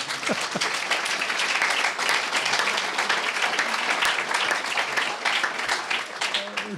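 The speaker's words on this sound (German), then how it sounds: "Das ist ein großer Applaus wert, finde ich." An indoor audience at a talk event in the Pfullingen town library applauds loudly and continuously, a dense wash of many hands clapping close by that holds steady throughout.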